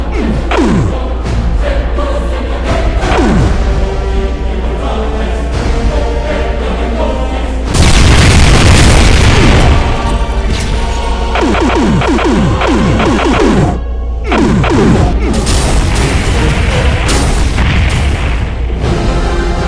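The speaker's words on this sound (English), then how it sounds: "Massive amounts of the wall-bouncing, slide-homing, plasmatic cannonball shots." Plasma cannonball shots from a modded Doom game burst in a dense, chaotic barrage of booming explosions and thumps, loud and continuous, with heavier bursts clustered near the middle and end.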